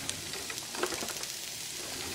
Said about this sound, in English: So into the pan comes the cabbage.